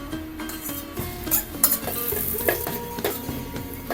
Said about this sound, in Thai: ใส่น้ำมันพืชตั้งลงไป หอมเตี้ยมตํำเอาใส่ลงไปเจียวก่อนครับ